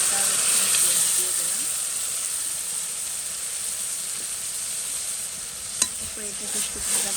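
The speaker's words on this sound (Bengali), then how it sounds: "আদা রসুন দিয়ে দিলাম তারপরে এটাকে একটু ভাজা" Onion with ginger and garlic fries in a pan, giving a loud, continuous close-up hiss of sizzling oil with faint stirring scrapes and one sharp clack near the end.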